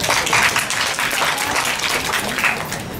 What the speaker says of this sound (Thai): ปรบมือต้อนรับด้วยครับ